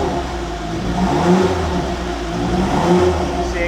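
Jaguar XJ220 heard from outside, its engine revving steadily with a continuous mid-pitched roar that swells slightly at moments, carrying a faint high turbo whistle throughout, close and loud with no talk.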